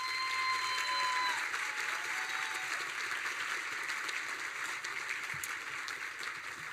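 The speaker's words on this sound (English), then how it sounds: "We applaud Marissa for her efforts and wish her well." An audience at a 2017 honors and awards ceremony applauds steadily, a broad even wash of clapping that holds for several seconds and slowly eases.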